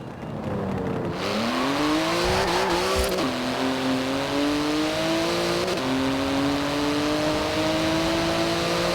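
A Porsche GT2 RS in the racing game Forza Horizon 4 drives hard, its engine note climbing loud and steady through repeated upshifts, with a brief tyre squeal early on and no talking.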